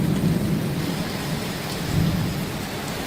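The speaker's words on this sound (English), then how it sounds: "We'll get some cool lightning and thunder here though." Thunder rumbles through a steady wash of rain falling on surfaces during a thunderstorm, a low rolling swell under constant hiss, fairly close and without voices.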